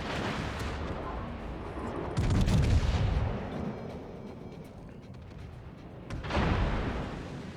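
Heavy naval gunfire from a battleship's main guns in World of Warships, the Friedrich der Große: a loud booming salvo rolls out near the middle, with a second heavy blast later, over a constant rumbling battle background.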